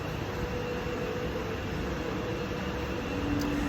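A passenger train runs near Matera, Italy, giving a steady, close rumble of wheels on rails with a faint sustained squeal rising near the end; no one speaks.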